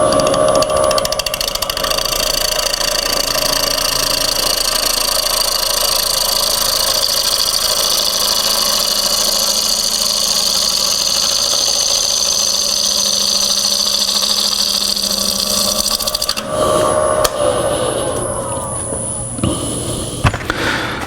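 A bowl gouge cuts into a spinning wooden bowl on a lathe, a loud continuous whirring drone with a steady tonal hum, shifting and breaking up near the end as the cut changes.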